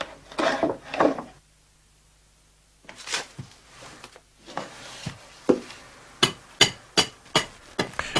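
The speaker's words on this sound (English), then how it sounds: "The seat is trimmed with a hand axe or hatchet" A hand axe or hatchet trims a wooden chair seat. A few scraping cuts and a pause lead into a run of sharp, close chopping blows on the wood.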